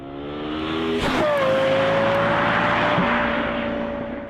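A Lexus LFA with its Yamaha-developed V10 roars loudly and close by, its tone rising sharply as it revs and shifts, then sustaining a high, smooth wail as it passes.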